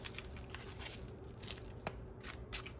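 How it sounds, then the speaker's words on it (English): Kalbi packaging being peeled open by hand, a quiet close crinkle and tearing of plastic with a few sharper crackles over about three seconds, no talking. "Peeling this thing like a banana"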